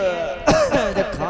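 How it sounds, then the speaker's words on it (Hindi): A man coughs a few times in quick rough bursts, close and loud, over a sustained tonal background of music. "खांसी"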